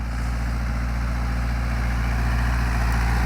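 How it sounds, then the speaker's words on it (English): A big tractor engine idles in a vineyard, a steady low diesel rumble with a pulsing throb, close and constant and slowly swelling, with no talking. "So you can tell it's a bigger tractor than yesterday."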